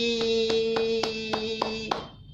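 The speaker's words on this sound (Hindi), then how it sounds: "अगर अच्छी लगी तो फिर बजाओ ताली" Children clapping after a story: about seven crisp, evenly spaced hand claps over a sustained steady tone, ending as the tone cuts off.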